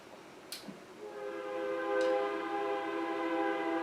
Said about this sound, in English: Kansas City Southern Railroad coming through.